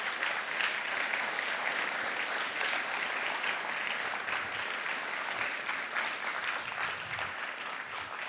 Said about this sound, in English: So give them a quick round of applause.